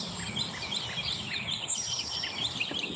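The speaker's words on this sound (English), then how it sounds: "Listen to my birds." Several pet birds tweeting in repeated short, sharp chirps, a busy, continuous twittering at moderate loudness over a soft background hiss.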